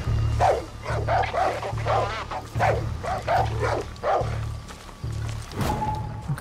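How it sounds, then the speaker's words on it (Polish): Dogs in the Far Cry 6 video game bark in a regular series of loud, close woofs, with a brief whimpering yip near the end. "Widzę, że mamy jakieś psy na obserwacji."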